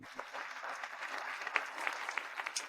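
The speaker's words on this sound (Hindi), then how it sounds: "आइए तालियों की गड़गड़ाहट के साथ हमारे मुख्य किरदारों का स्टेज पर स्वागत करें।" Steady applause from an audience welcomes a couple onto the stage at an engagement ceremony, with continuous clapping that holds at an even, moderate level throughout.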